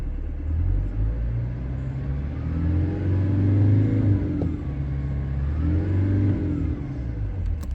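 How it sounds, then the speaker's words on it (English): A 2022 Toyota Landcruiser Prado Kakadu engine revs up steadily, rumbling low and loud with rising and falling swells, close by and without talk. "We'll give it a little rev."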